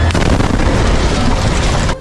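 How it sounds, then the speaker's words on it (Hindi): Loud, sustained blast rumble from an Israeli airstrike on Ismail Haniyeh's house, booming and crackling without a break before cutting off abruptly. "जिसमें कान के पर्दे फाड़ देने वाले तेज धमाके होते दिखे"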